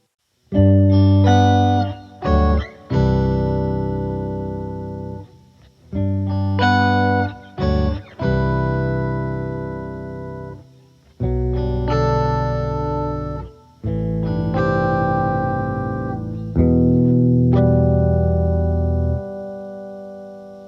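Electric guitar played through a Pitchfork pitch-shifting pedal, phrases of sustained, layered notes with a shimmering doubled tone, separated by short pauses.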